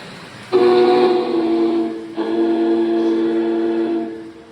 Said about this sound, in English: This one does have the whistle steam.